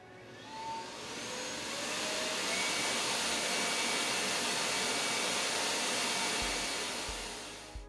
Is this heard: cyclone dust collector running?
yes